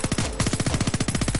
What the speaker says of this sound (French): Brady, on entend plein de coups de feu.